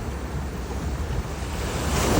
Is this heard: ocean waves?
yes